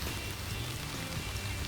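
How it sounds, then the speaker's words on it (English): Rain falls steadily on a garden in July, a dense, even patter of drops on surfaces with no voices. "it's really raining in my garden"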